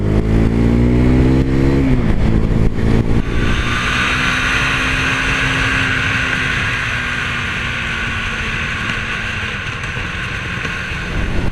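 A Husqvarna Svartpilen 401 motorcycle on the road, its single-cylinder engine revving up then settling into a steady loud drone with a gear change early on, heavy wind rush over it throughout.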